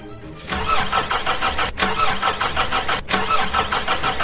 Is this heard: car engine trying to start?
yes